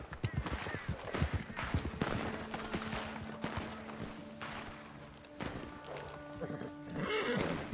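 A horse neighs and whinnies amid galloping hoofbeats and scattered bangs in the video game Red Dead Online, all fairly faint against a busy game background.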